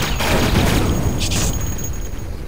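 Cannons firing in the Duke Nukem 3D video game, a dense, loud run of booming blasts that overlap into a continuous barrage.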